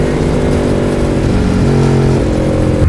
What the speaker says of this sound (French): quand j'appuie dessus ça me change le bruit de la moto, ça me met le bruit par exemple de la Tuono V4